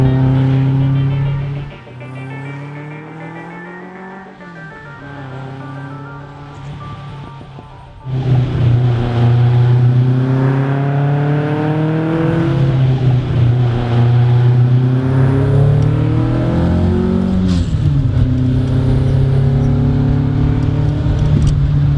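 A Dinalpin A110 with a Gordini engine of about 120 horsepower drives past up close, engine note climbing through repeated gear-change sweeps, quieter at first, then louder and rasping as it pulls hard.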